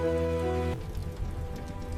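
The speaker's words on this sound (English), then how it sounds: "At least the storm is calming down." Heavy rain from a storm beats steadily on a surface, loud and close, after a sustained low tonal hum in the first moment.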